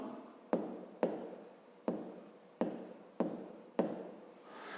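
A pen writes on paper during a fifth-grade maths exercise, a series of about seven quick scratching strokes, each starting with a sharp tap and trailing off, close and alone.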